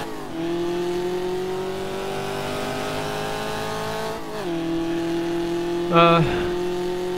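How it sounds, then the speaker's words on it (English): A Trans Am race car at the 1966 Sebring 4 Hours in GTR2 holds a steady engine drone. It drops pitch with a gear change, then gives a brief loud scrape or tire squeal near the end, and someone talks over it. "See another car out going on the back straight there"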